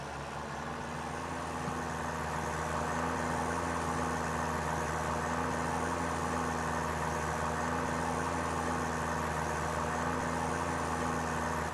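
A John Deere tractor in Farming Simulator 2013 drives along with a steady, droning engine hum and a constant low rumble, unbroken and fairly loud throughout.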